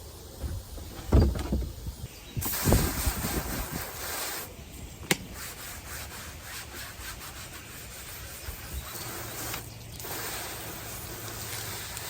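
Pallet-wood flower stand scrubbed outdoors, with close rough rubbing strokes in bursts near the start and then a quieter, steadier scraping texture that carries on through the rest.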